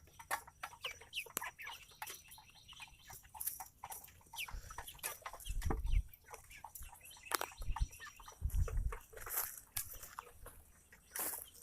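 Chickens on grass cluck and mutter in short scattered bursts, several birds close by with irregular pecking and rustling between calls.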